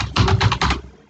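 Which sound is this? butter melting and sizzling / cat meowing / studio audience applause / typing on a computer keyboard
typing on a computer keyboard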